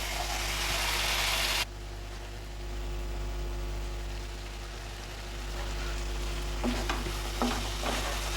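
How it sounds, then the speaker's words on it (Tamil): Prawn gravy frying and being stirred in a pan, starting with a loud burst of sizzling that drops to a quieter steady sizzle with a constant low hum underneath and a few scraping stirs near the end. "நல்ல 1 மினிட்டுக்கு இதை நல்லா கிளறி கொடுங்க"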